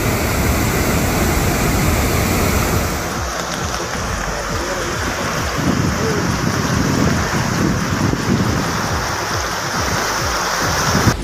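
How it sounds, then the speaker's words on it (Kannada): Water roars out of the Harangi reservoir in a continuous, loud rush. The dense spray and turbulent churn hold steady throughout with no pauses. "ಇನ್ನು ಬೋರ್ಗರೆದು ಧುಮಿಕ್ತಾ ಇರುವ ಹಾರಂಗಿ ಜಲಾಶಯದ ದೃಶ್ಯ ಸಖತ್ ವೈರಲ್ ಆಗ್ತಿದೆ."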